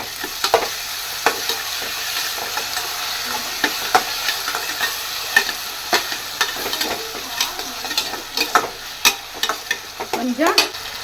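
Hand-crushed tomatoes frying in a pan for a traditional Tamil fish curry (meen kulambu), with a steady close sizzle and repeated stirring scrapes and clinks of a spoon throughout.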